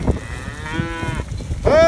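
Cattle low on a ranch at feeding time, a drawn-out moo followed by a second louder, rising one nearby, over rumbling outdoor vehicle and wind noise.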